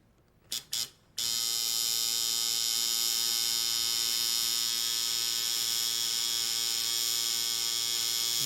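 A tattoo machine runs steadily while a needle pulls a line on skin, giving a loud, constant electric buzz that starts after a few brief clicks and holds unbroken to the end.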